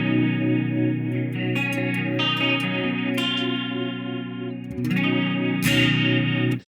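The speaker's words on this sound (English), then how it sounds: "Just a really nice, simple rotary effect, not too fast." Electric guitar through a Quad Cortex slow-speed rotary effect, held chords shimmering with a gentle swirling modulation, played alone with a few chord changes and no talking.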